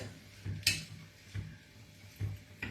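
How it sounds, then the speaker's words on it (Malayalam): Onions sautéing in a pan for paneer pasanda, a soft steady sizzle broken by a few irregular scrapes and clinks of a spoon stirring against the metal, close and fairly quiet. "ഇത് നന്നായിട്ട് ട്രാൻസ്ലൂസൻ്റ് ആകുന്ന വരെ നന്നായിട്ട് ഇത് വഴറ്റിയെടുക്കണം."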